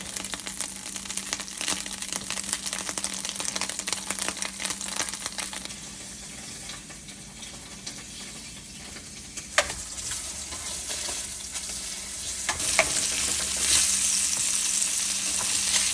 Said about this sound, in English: going to make some fried eggs and toast